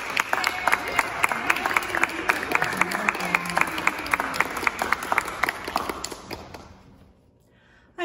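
A church congregation claps to welcome a person during a communion service, steady close applause with a few voices mixed in, fading out near the end.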